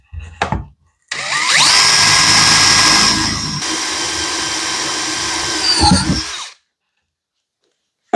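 A power drill coated with cutting oil whirs steadily for several seconds after a brief burst, its pitch holding high before winding down and stopping.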